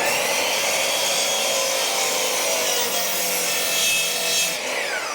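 A hand saw cuts at an angle through the wooden frame of a cornhole board, a steady, loud rasping stroke running continuously from start to finish with no talking.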